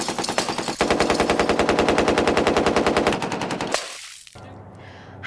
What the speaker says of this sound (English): the weight and balance really reduce muzzle rise during firing